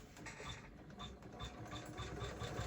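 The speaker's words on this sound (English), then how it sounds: "now everything's ready to do our top stitching" An embroidery sewing machine top-stitches an in-the-hoop mini tote bag with a zipper placket, giving a steady, moderately loud rapid needle chatter with a rhythmic pulse that runs continuously throughout.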